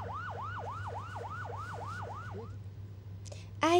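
An ambulance siren wails in a traffic jam, a regular rising-falling yelp repeating about every third of a second over a low engine hum, then cutting off before a sharp clatter at the end.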